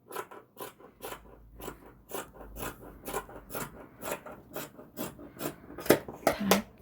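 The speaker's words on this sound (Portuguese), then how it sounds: "Vou cortar aqui." Scissors cut through a cotton T-shirt being customized with crochet. The snips are crisp and close, and they come in a steady, regular rhythm, about two per second, with a few louder cuts near the end.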